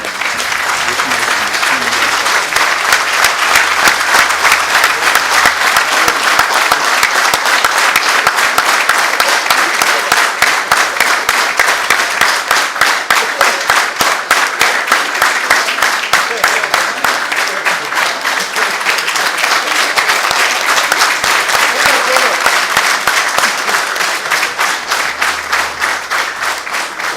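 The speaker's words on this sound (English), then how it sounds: "General Yahya deserves a resounding standing applause for these and several other achievements" A long, sustained standing ovation at a military ceremony for an outgoing Nigerian Chief of Army Staff, a dense, steady roar of many hands clapping at full volume throughout, with no speech over it.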